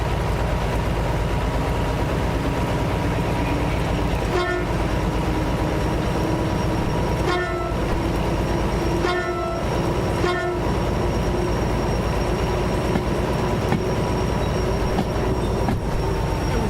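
A locomotive running in the Derail Valley train simulator game, a continuous loud engine drone and rumble throughout with several short horn blasts spaced apart, up close and without talk.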